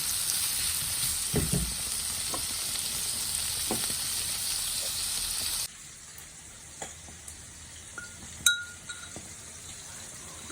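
Bitter gourd and coconut fry sizzles over a low flame, a steady close hiss with a few soft clinks. About halfway through it drops abruptly to a much quieter simmer broken by scattered light taps.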